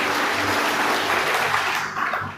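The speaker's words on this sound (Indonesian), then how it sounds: "Berikan tepuk tangan buat Tuhan Yesus." A church congregation claps together in dense, sustained applause that fades slightly toward the end.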